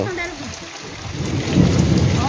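Rain pours steadily in a village, with a low thunder rumble early on and a heavier downpour building toward the end, all close and continuous with no voices.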